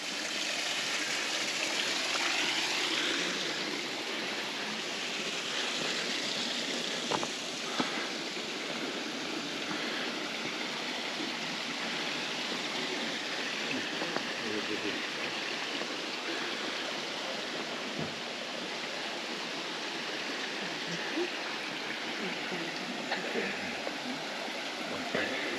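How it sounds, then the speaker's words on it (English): Steady, close rush of water from a small waterfall in Monte Palace Botanical Gardens, Madeira, a continuous broadband splash with faint occasional clicks and no voices. "Nice, delicate little waterfall."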